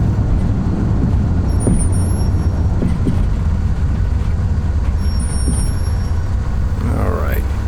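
Aircraft braking on grass in Microsoft Flight Simulator X with Accu-Feel effects, a loud steady rumbling roar with brief hissing bursts and faint high tones over it.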